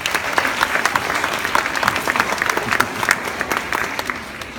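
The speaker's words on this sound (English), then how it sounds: "If we could give her a round of applause." A round of applause for Miss Allen at a school DARE graduation in 2016, individual hand claps clearly audible within a steady crowd clapping that continues throughout.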